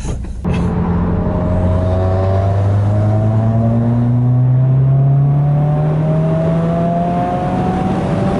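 Subaru WRX accelerating hard, engine note rising steadily in pitch through a long pull after a brief click at the start, loud and close from inside the car, with no talk.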